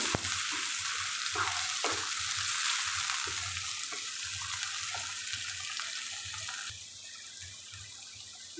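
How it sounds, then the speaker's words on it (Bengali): Chopped onion sizzles steadily in frying tuna, a constant hiss close by with soft scraping stirs breaking through now and then, growing slightly quieter near the end. "পেঁয়াজ কুচিটা সুন্দর করে মিশিয়ে নেব"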